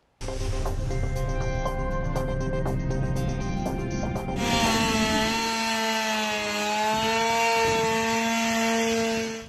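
Steady engine whine with harmonic tones, shifting pitch as a chainsaw bites into storm-damaged wood; loud and continuous throughout, no talking.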